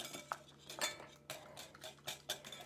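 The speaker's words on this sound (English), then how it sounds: "Now I'm going to put the cinnamon in here and we'll start whisking." A whisk or spoon clinks and scrapes against a bowl while cinnamon and raisins are mixed, giving light irregular metallic taps at close range in an otherwise quiet kitchen.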